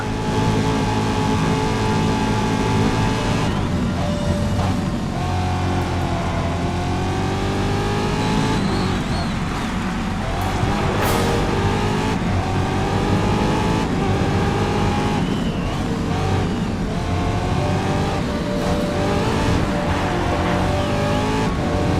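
Race cars battle in the racing game Race Driver: GRID, engines roaring loud and continuous with rising and falling revs as gears shift, close pack noise and occasional tire squeal, no talk over it.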